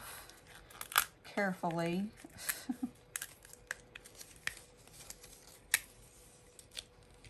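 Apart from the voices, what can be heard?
peeling printed stickers off their backing sheet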